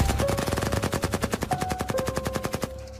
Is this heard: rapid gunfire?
yes